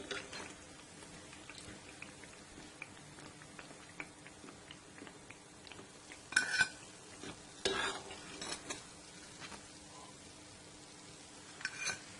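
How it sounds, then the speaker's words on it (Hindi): Bread pieces frying in a pan of oil for shahi tukda, a faint steady sizzle with soft crackles and a few louder clinks and stirring bursts near the middle and end. "तो बाकी सारे ब्रेड के पीसेस को भी हम यूं ही फ्राई कर लेंगे।"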